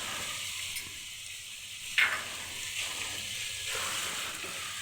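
Chicken korma with a spoonful of sugar frying in a pan, a steady close hiss of sizzling with one sharp scrape of a spoon partway through.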